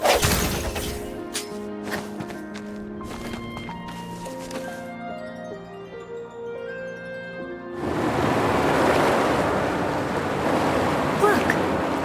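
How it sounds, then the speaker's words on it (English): Water receding in the video game Wuthering Waves: after several seconds of music, a loud, steady rush of flowing water takes over and continues to the end. "Look, the water is going down."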